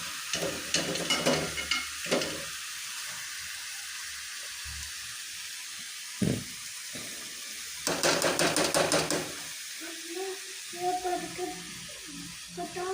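Food cooking in a pan being stirred again and again, bursts of scraping and sizzling with quieter pauses between, and faint voice-like sounds in the background toward the end.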